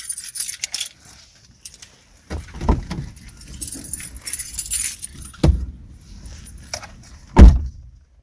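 Smart keys for a 2016-2018 Honda HR-V jangle and clatter in the hand, with a few sharp metallic clinks and a loud close rattle near the end, no talking.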